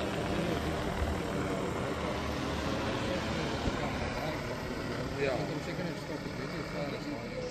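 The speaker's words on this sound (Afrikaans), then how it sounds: "vlieg die drone op sy roete bo oor die boord" Osiris agricultural drone flying its programmed route over an orchard, a faint, steady rotor hum in the distance under continuous outdoor background noise.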